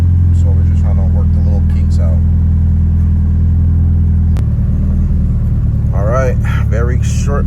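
The engine of a Mitsubishi Evo 9 idles with a steady, deep rumble, then the revs drop and settle smoothly to a lower, even hum partway through, while someone talks over it at times.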